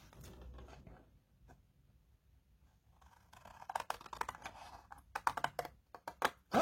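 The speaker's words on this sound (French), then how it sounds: "vous allez prendre des ciseaux et vous allez couper" Quiet at first, then a series of crisp snipping cuts as scissors slice through paper, close and irregular, in quick bursts.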